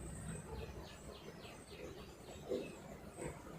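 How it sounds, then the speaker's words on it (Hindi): Faint bird chirps outside an open window repeat in a quick series against a steady hum of background noise, with a couple of soft thumps nearby. "पहले आपको चिड़िया की आवाज़ सुनवा देती हूँ।"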